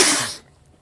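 A single short, sharp sneeze bursts out close and loud, then cuts off abruptly into near silence.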